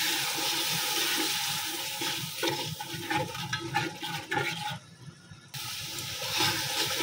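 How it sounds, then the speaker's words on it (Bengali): Water poured into spiced masala of turmeric, chili, coriander and cumin powder frying in a pan, giving a loud, steady hissing sizzle that briefly cuts out and then resumes, with no talk. "তো এখন একটু পানি দিয়ে ভালোভাবে কষাই নেব মশলাটা।"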